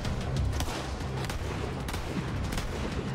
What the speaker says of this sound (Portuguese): Essa é semi-automática e uma outra é rajada.